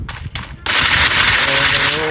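Rapid gunfire in the mobile shooter Free Fire, two short bursts followed by a sustained, loud volley of shots, with a voice speaking faintly underneath.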